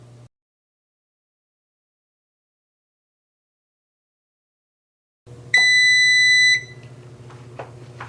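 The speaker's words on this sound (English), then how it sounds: "Sorry for that excessive beeping." An Emerald air fryer oven signals that preheating is finished with a loud, steady electronic beep lasting about a second. The beep follows a long stretch of silence, and a low fan hum continues under it.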